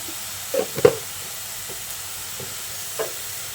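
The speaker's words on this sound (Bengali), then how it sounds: "এখন আদা রসুন বাটাটা দিয়ে পেঁয়াজের সঙ্গে আরও কিছুক্ষণ ভেজে নিচ্ছি" Ginger-garlic paste frying with onions in a pan gives a steady soft sizzle, broken by a few light scraping stirs, with no talking.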